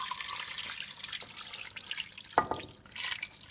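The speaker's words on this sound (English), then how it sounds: "And now I'm going to just pour the water into the pot." Water is poured into a pot for chicken stock, making a soft, continuous splashing trickle with a brief brighter gush partway through, heard close up and fairly quiet.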